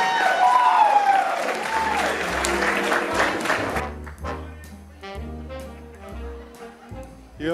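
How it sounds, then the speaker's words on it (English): Wedding reception guests break into applause and some cheering, which is loud at first, then thins out as music with a bass line and piano comes in and takes over the second half. "please let's get one more big round of applause for Caroline and Luke."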